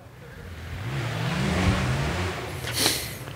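A rally car on the Trèfle Lozérien rally stage at Lac de Ganivet, France, roars in from a distance, building to a loud pass with a sharp high rev near the end.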